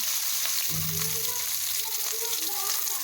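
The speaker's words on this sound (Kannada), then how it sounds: "ಕಟ್ ಮಾಡಿರೋಂಥ ಈರುಳ್ಳಿ ಮತ್ತು ಟೊಮೊಟೊ ಹಾಕಿ ಚೆನ್ನಾಗಿ ಫ್ರೈ ಮಾಡ್ಕೊತೀನಿ" Chopped onion frying in a little oil in a pan, giving a steady, close, even sizzle that runs throughout, with a soft low thump near the start.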